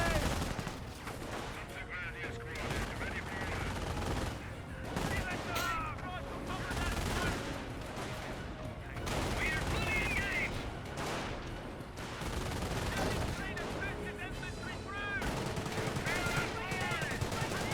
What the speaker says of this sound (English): Brand squad firing away behind some good heavy cover.